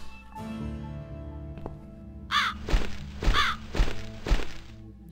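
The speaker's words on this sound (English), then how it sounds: "I'll follow the crow!" Several loud crow caws ring out in the eerie world of The Cat Lady video game, a rapid run of harsh calls broken by dull thunks, set over a low ambient drone with no talking.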